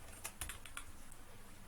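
Someone types on a computer keyboard in a quiet room, a brief run of soft, irregular key clicks heard alone.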